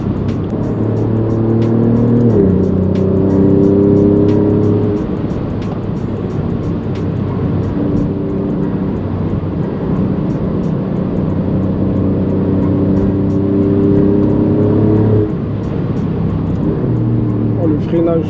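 Alfa Romeo Giulia Quadrifoglio, 510 hp, accelerating hard on the road, heard from inside as a steady loud engine drone that steps through rising gear pulls for the whole stretch.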